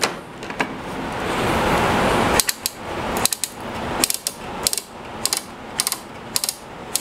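An Incra LS router fence positioner being adjusted on a router table, sharp ratcheting clicks and mechanical clacks in quick irregular bursts after a brief rush of noise, close and distinct.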